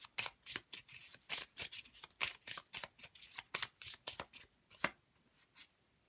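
Playing cards shuffled for a card reading, heard as a long run of quick, crisp riffling and sliding strokes in close succession, near and fairly quiet, with no talking.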